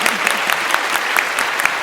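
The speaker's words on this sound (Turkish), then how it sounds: "Biz de Zeynep Hanım'ı alkışlıyoruz." Studio audience applauding on a Turkish television game show, a steady dense patter of many hands clapping throughout, moderately loud and continuous.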